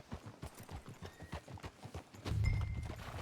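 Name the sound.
horse hooves clip-clopping in the video game Red Dead Redemption 2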